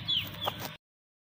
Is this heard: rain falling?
no